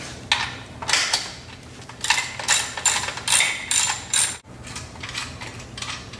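A ratchet loosens a bolt on a hydro cart wheel assembly, with loud, close bursts of rapid clicking, a brief break, then softer continued ratcheting.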